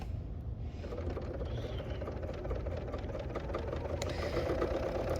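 A serger sewing machine runs steadily while stitching quilt fabric, with its knife set to 5, giving a fast, even mechanical whir and rapid clatter close by that lasts throughout.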